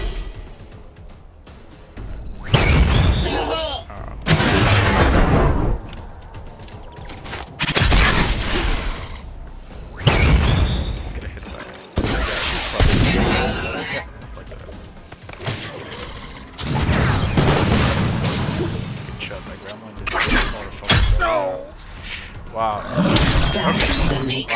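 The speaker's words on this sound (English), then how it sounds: "Big explosions are better!" Big blasts and crackling impacts from combat in the video game Atlas Reactor, several loud bursts breaking out in clusters over a steady bed of game noise, with a person talking over parts of it.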